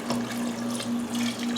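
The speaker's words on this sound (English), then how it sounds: "pour your water into the pot until it covers your chicken almost completely" Water pours steadily into a cooking pot holding raw chicken for chicken and dumplings, a close, continuous splashing stream with a faint rising fill tone and no talking.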